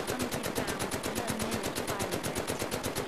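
An MG42 machine gun fires in the VR game Medal of Honor: Above and Beyond on Quest 2, one sustained, loud burst of rapid, evenly spaced shots.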